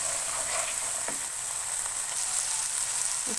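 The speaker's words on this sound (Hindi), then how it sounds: "इसको मैंने मीडियम फ्लेम पे थोड़ा सा भूना है।" Spices with ginger garlic paste and whole garam masala frying in a pan over medium flame, a steady close sizzle with faint stirring scrapes, no speech.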